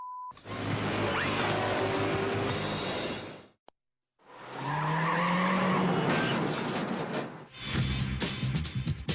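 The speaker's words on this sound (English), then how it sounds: "Canada's worst drivers are showing us that they've learned how to control a skidding J-turn" A car skidding through a J-turn at a driving school, loud tire squeal and engine roar in two long close passes separated by a brief silence, with a final burst of skidding.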